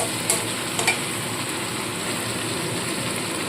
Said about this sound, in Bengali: আদা রসুন বাটাটাও দিয়ে দিলাম দিয়ে ভালো করে কষাতে হবে